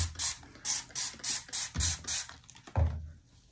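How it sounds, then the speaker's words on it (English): A trigger spray bottle of Dawn Powerwash is pumped onto clothing in a quick series of bursts, each a short hissing spritz, followed by a couple of softer clicks. "Let me spray it on there."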